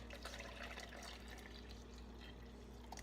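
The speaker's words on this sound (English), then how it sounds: "So let me get this poured in there." Liquid coffee ice cream mixture poured into a flexible silicone prep bowl, a steady, close, continuous wet trickle that runs unbroken throughout, with no voices.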